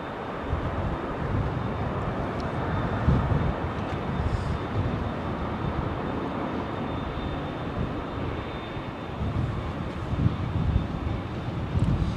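A jet airliner takes off from runway 27L at London Heathrow on a reduced-thrust departure, its broad steady engine roar mixed with wind buffeting the microphone, holding fairly constant and swelling slightly near the end.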